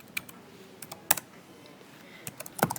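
A computer keyboard is typed on while entering C++ code. Scattered, faint keystrokes come in small irregular bursts, with quiet pauses between them.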